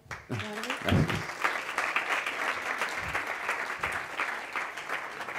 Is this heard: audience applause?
yes